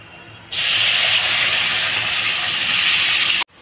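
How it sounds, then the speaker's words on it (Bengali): Water poured into moong dal frying in a hot pan bursts into a loud, sustained hiss and sizzle, roaring steadily for about three seconds before cutting off abruptly. "আমি এবার বন্ধুরা জল দিয়ে দেবো।"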